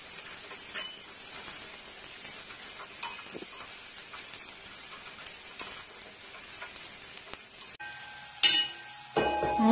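Curry sizzles in a pan while being stirred, with a low frying hiss broken by intermittent spoon scrapes and taps, then a louder clatter of stirring near the end.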